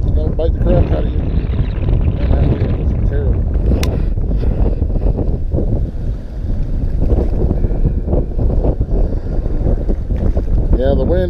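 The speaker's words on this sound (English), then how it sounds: "the wind, it makes it difficult to fish sometimes" Wind blowing hard over a boat while catfishing in mid December, a loud constant buffeting roar across the microphone, with muffled voices faintly underneath.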